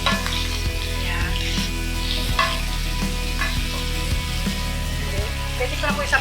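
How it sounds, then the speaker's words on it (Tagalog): Loud, continuous sizzling of potatoes frying in a pan, with occasional stirring scrapes. "I-fry ko muna itong patatas."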